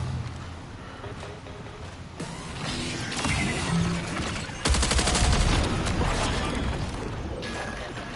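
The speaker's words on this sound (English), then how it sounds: "That does not sound like my gunfire." Rapid gunfire and mechanical weapon clatter in the video game Marathon, a dense, loud barrage of shots and bursts that swells partway through and stays busy to the end, with no talk.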